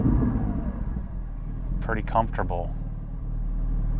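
Interior of a Porsche 718 GT4 on the move, a steady low engine and drivetrain drone running throughout, with someone speaking briefly over it midway.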